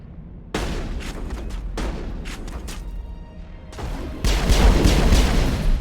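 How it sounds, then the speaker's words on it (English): Rockets and gunfire in the video game Mass Effect: loud, dense bursts of shots and booming blasts fill the clip, with a heavier barrage near the end. "see someone shooting rockets at us still"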